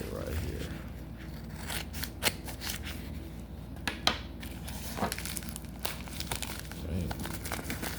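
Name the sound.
cutting open a mystery package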